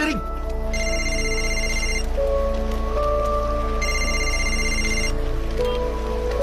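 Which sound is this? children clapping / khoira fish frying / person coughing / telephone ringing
telephone ringing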